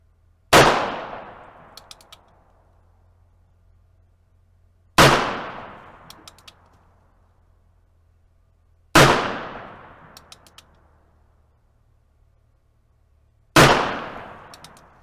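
Four loud, sharp shots from a Ruger Single-Six .22 Magnum revolver fired outdoors at soda cans about seven yards away, each crack followed by a decaying ring and faint metallic can hits, spaced several seconds apart.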